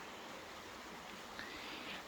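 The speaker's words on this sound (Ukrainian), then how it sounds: "Проходить така річка повз територію" River flowing past the grounds of a rural guesthouse in Zakarpattia, a steady broadband rush of water, even and moderately close, with no voices.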